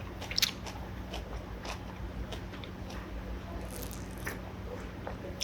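Pig ear being chewed at a Korean sundae restaurant, a run of soft crunchy bites and wet squishy mastication close to the mouth, steady and continuous with faint restaurant murmur underneath.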